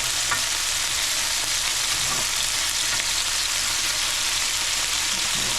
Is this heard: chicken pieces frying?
yes